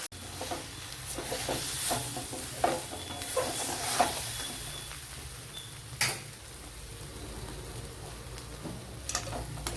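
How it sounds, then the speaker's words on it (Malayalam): Chilli, turmeric and Kashmiri chilli powders frying in oil in a pan for bitter gourd curry, a soft continuous sizzle broken by stirring scrapes and light clicks, close and fairly quiet, with no voices. "ഈ പൊടി ഐറ്റങ്ങളെല്ലാം കൂടെ ഒന്ന് മൂപ്പിച്ചെടുക്കണം."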